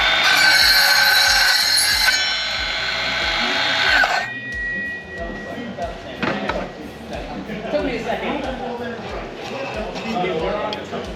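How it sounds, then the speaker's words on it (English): A Hilti Nuron cordless metalworking circular saw cold-cutting metal: loud high whining cut for about four seconds that stops abruptly, followed by clinks and handling noises with talk. "So this is the main advantage of a circular saw."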